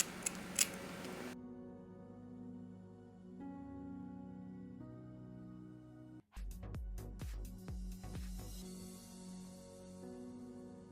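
Scissors cut through wig lace in a series of quick, sharp snips up close, following a stretch of low humming background.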